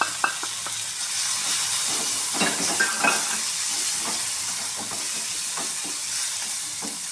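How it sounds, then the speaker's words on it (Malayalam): Chopped onion and tomato sautéing in a pan for a liver fry make a continuous close sizzle, broken by the scrape and clatter of stirring near the start and the middle. "അതിലേക്ക് ഒരു സവാള അരിഞ്ഞതും ഒരു തക്കാളിയും കൂടെ ഇതിലേക്കിട്ടൊന്ന് നന്നായിട്ട് വാട്ടാം."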